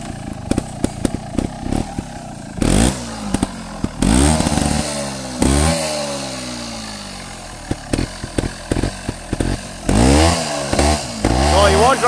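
A trials motorcycle on a dirt practice track revs in sharp bursts, engine note climbing and dropping as the clutch is popped to lift the front wheel. It is loud and close, with voices talking between the revs.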